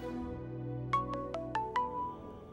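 Mobile phone ringtone for an incoming call, five quick rising electronic beeps in a short melodic phrase over a low background hum, with no talk.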